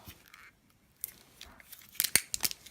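A roll of snowflake-patterned washi tape is tugged and peeled open, giving a few quiet rustles and then several sharp crinkling tears near the end, with faint background sounds between them.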